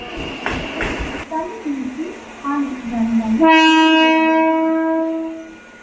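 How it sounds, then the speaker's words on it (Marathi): A train rumbles into Thane station, then a loud sustained horn blares for a couple of seconds; a voice speaks briefly over the rumble beforehand. "ठाणे ट्रेन आलेली आहे"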